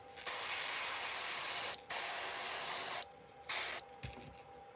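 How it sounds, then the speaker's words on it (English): Gold spray paint hissing from an aerosol can onto a fishing lure stencil in several bursts, two long sprays followed by shorter spurts with brief gaps between them, close and loud. "then we'll go back in and spray some of that gold"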